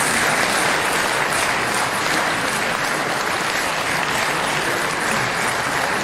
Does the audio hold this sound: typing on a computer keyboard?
no